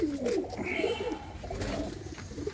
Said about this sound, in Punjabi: ਇਹ ਵੀਰੇ ਕਬੂਤਰ ਆ